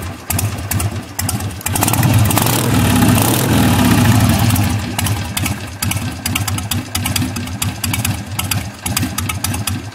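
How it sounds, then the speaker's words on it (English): A carbureted 2006 Harley-Davidson Sportster 883 cranks and fires, its engine revving briefly before settling into a loping, uneven idle with rhythmic pulses, loud and close with no talking. "that's the cool thing about a carbureted Harley, is that they'll just sit there and idle and lope"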